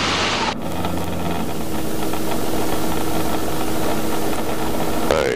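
A Robinson R22 helicopter engine during engine failure practice produces a steady, dense, broadband roar that continues evenly throughout, with a brief change in tone near the start.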